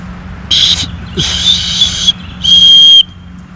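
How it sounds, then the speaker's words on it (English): Three shrill blasts from an emergency whistle on a ferro rod striker, loud and close, with short gaps between them; the last is the sharpest. "which also has a emergency whistle on it"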